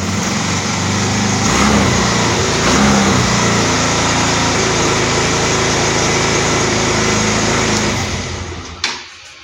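A Yamaha Xeon scooter engine runs after a kick start, a loud, steady, close buzzing idle that holds for most of the stretch before cutting off near the end.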